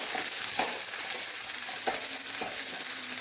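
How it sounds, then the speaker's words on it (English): Mustard seeds, cumin and red chilli sputter and crackle in hot oil, a dense steady sizzle with scattered sharper pops and light stirring noises throughout. "putting the mustard seeds, jeera and the red chilli. So now it is spluttering."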